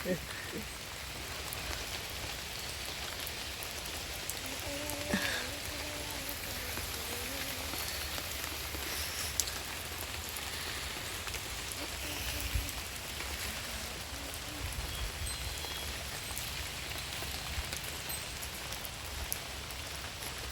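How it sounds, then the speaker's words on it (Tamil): Rain falls steadily while riding a bike on the road toward the beach at Adirampattinam, a dense even hiss of drops throughout, with a faint voice briefly underneath. "இன்னும் மழை வேறு"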